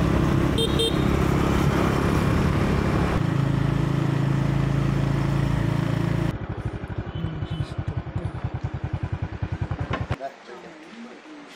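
Busy Vietnam street traffic with motorbikes passing and occasional car horns, loud at first, then a rapid rhythmic clatter of a passing engine before fading; voices speak in French over the noise.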